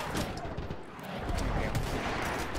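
Gunfire in Mount & Blade Warband, a dense burst of overlapping shots with broadband cracks and booming low end, heard as a continuous barrage across a short stretch.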